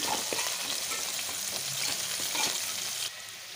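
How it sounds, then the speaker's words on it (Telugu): Mint leaves sautéing in hot oil give a steady sizzle and crackle with occasional stirring scrapes, close and moderately loud, no talking. "అలాగే పుదీనా కూడా ఇందులో యాడ్ చేసుకొని ఒకసారి అయితే మళ్ళీ కలుపుకోవాలి."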